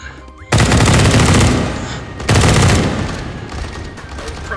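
Two long, loud bursts of automatic machine gun fire from the H3VR virtual reality shooting game, each a dense rattling volley lasting over a second, the second burst fading slightly toward the end.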